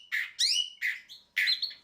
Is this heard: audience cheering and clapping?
no